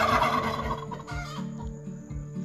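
Large, fat turkeys at night give repeated clucking and gobbling calls, close and fairly loud, in a few uneven bursts with short gaps between them.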